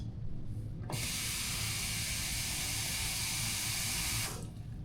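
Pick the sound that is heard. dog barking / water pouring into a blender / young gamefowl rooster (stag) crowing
water pouring into a blender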